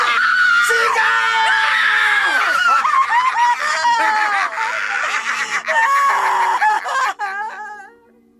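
A woman screaming in a dramatized horror story, long piercing shrieks held close and loud, wavering and breaking into sobbing wails before fading out at the end.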